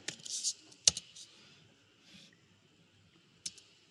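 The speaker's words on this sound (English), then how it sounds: "And I'll select everything and type array." Typing on a computer keyboard while working in Rhino, a handful of sharp isolated key clicks and short bursts spaced across a few seconds, close and crisp in a quiet room.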